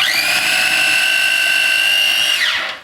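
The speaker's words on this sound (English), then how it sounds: "See my mini chopper thing, watch this." A small electric mini chopper blitzes a sandwich mixture, its motor giving a loud, steady high whine for a few seconds before spinning down abruptly at the end.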